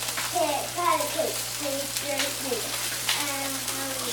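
Onion stock strained into a hot electric skillet, giving a steady, close hiss and sizzle throughout while a voice talks over it and a low electrical hum runs underneath.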